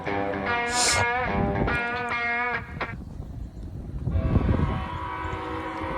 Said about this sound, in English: Train might be stopping.